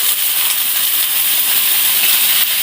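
Water poured onto a hot pan while making milk chitau pitha sets off a loud, close, steady steaming hiss that holds unbroken and bright throughout, with no talking.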